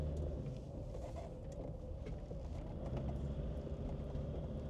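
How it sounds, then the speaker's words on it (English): Land Rover Discovery Td5 automatic with a stage 1 tune accelerating sluggishly, a steady low diesel engine drone and road rumble heard from inside the cabin with no talk. "this should accelerate harder than it is doing"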